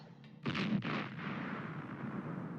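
Explosions in the Star Trek Online video game: a sharp booming blast followed by a second burst, then a rumbling decay that lingers at moderate volume.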